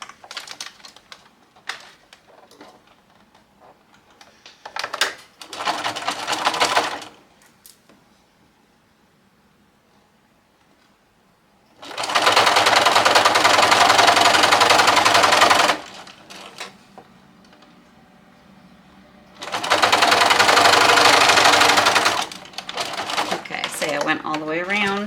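Sewing machine stitching a rolled hem on lace fabric for a bridal gown, heard in a short burst and then two long, loud, steady runs of rapid stitching, with someone talking in the quieter gaps.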